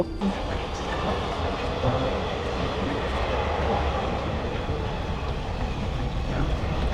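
A steady, loud rumble of a moving train heard from inside a carriage, with constant rattling and rolling noise throughout.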